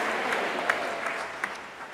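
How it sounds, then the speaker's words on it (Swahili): A Lutheran congregation applauding during an Ash Wednesday service in church, soft steady clapping spread across the room with a few sharper individual claps popping out, moderately distant and reverberant. "Pigie Bwana makofi mengi."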